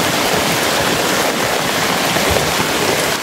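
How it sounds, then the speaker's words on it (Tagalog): Heavy rain pours in a dense, loud, unbroken hiss that sounds close by and continuous, with no breaks and no speech over it. "lakas na ulan"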